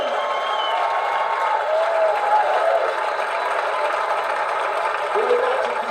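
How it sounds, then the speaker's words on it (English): A large audience at the Logie Awards ceremony applauds the 2016 gold Logie winner, a steady, sustained crowd clapping with murmuring under it and faint tonal sounds drifting through. "Please, a big round of applause for him."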